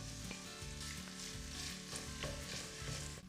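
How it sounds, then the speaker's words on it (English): Crumbled sausage sizzles as it browns in hot oil with garlic and chili, a steady close crackle with soft stirring scrapes and no talk. "add the crumbled sausage and let it brown"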